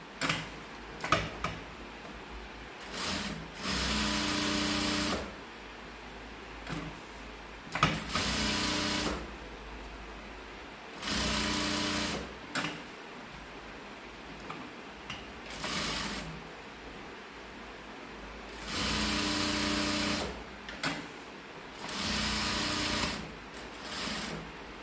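Sewing machine stitching the sides of a thamboolam gift bag: about half a dozen bursts of rapid, steady mechanical stitching, each a few seconds long, separated by quiet pauses with small clicks of the fabric being handled.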